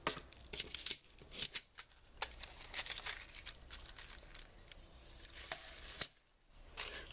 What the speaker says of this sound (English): I was able to just come in and cut that out with no problem.